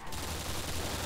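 Automated turret in a Call of Duty World at War zombies custom map firing a sustained, dense rattle of rapid shots, loud and continuous through the short moment.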